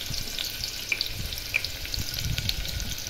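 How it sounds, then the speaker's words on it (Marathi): Onion and garlic fry in hot oil, a steady close sizzle with scattered crackles and pops, no talking. "सो तेल गरम झालं आपलं तर मी कांदा आणि आपलं लसूण दोन्ही फोडणीला घालते."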